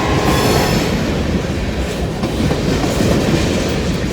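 A long freight train on a busy line in Hamilton and Somerville rolls through a switch from track 2 to track 1, a loud, steady rumble of wheels with faint clatter and squeal, continuous and close throughout.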